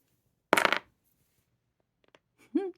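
Shiny Neverwinter dice rolled on a board game, a single sharp clattering burst that dies off within half a second, then quiet with faint small sounds and a brief vocal murmur.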